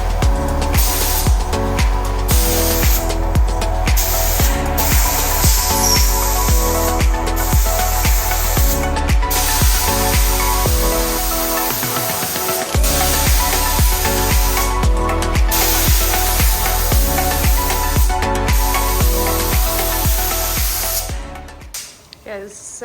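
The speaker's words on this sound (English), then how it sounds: "the second coat is going on a lot better now" Spray gun laying a second coat of paint on a drift car in a home garage, long bursts of loud hissing spray with brief pauses between passes and a pulsing compressor underneath.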